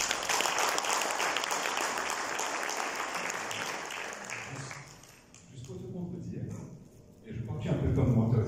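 Audience at a book launch in Mauritius bursts into loud applause that rings for several seconds before dying down, after which someone speaks in French, with a short renewed burst of clapping near the end.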